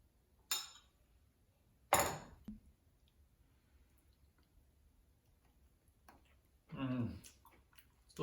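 Crunchy chewing of raw spiralized zucchini noodles tossed in pesto sauce: a few sharp, close bites spaced seconds apart, with a longer crunching burst near the end, in an otherwise quiet kitchen.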